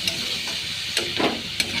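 Manimuni (pennywort) and raw turmeric fry together in a pan, a soft steady sizzle broken by a few sharp spatula stirs and scrapes, close and alone.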